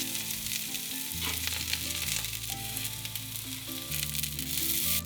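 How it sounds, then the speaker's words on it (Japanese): Napa cabbage and maitake mushrooms are stir-fried in a pan, making a loud continuous sizzle with stirring, while steady background music plays beneath. "白菜と舞茸を軽く炒めます。"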